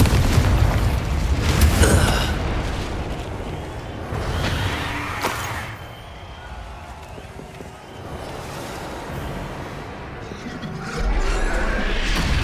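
The Confringo blasting spell goes off in the Hogwarts Legacy video game, a series of deep booming explosions with rumbling, crackling tails under a continuous ambient wash.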